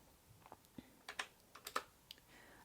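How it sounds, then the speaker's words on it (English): Keys clack on a computer keyboard in a quiet room, a few soft taps building into quick clustered bursts of sharper keystrokes, fairly close and with no talking. "I'm just going to be typing"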